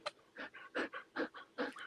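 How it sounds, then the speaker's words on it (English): A dog pants rhythmically close by, about five quick breathy in-and-out puffs, faint and alone with no talking over it. "I hear a dog."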